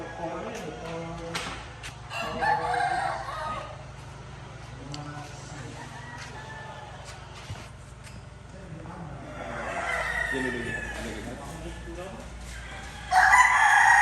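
A gamecock rooster crows several times, with another loud crow near the end, over steady background noise and some nearby voices.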